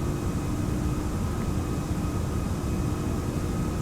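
A steady, dense roar of jet engines from a Toliss A340-600 airliner climbing out in the X-Plane 11 flight simulator, constant and loud throughout with no breaks.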